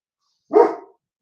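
A single loud, close dog bark rings out once against complete silence before and after.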